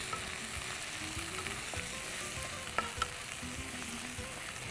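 Tomatoes sautéing with ginger garlic paste in a hot pan give a steady, close sizzle throughout, with a few sharp utensil clicks partway through.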